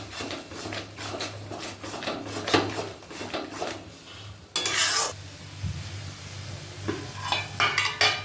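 Masala stirred and fried slowly over low heat in a pan, with repeated scraping spoon strokes and a soft sizzle underneath, close by; a brief word is spoken at the start.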